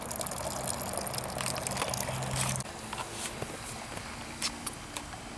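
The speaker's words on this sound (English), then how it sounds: "we're almost done with the first runnings. I've collected almost 3 gallons of wort" Wort trickles out of a homebrew ESB mash during the first runnings, a close, steady stream of liquid pattering and splashing into a vessel, with a low hum that cuts off midway.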